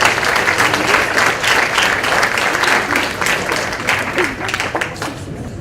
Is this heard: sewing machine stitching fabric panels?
no